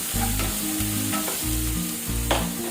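Minced mutton keema sautés in a little oil in a pan, giving a steady loud sizzle with soft stirring scrapes and occasional spatula knocks throughout.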